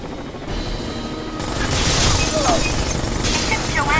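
A combat helicopter's steady rotor roar in the video game Rainbow Six Vegas 2 grows louder, mixed with rattling gunfire and crashing impacts throughout the battle.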